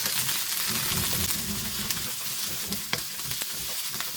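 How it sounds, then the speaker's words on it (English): Onion slices frying in oil in a kadai, a loud, dense sizzle held close throughout with a few light scrapes as they are mixed. "In a kadai, take 2 tablespoons of oil. Add 1 medium sized onion slice. Mix well for a minute"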